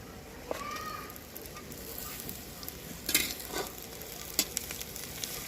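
Green chillies and ginger frying in oil for a Punjabi-style paneer and capsicum sabzi give a soft, steady sizzle, quiet and close, with a few brief crackles and pan taps.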